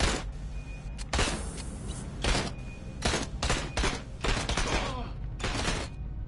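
Squad gunfire in the video game Aliens: Dark Descent, several loud bursts of rapid shots separated by short pauses, with game effects between.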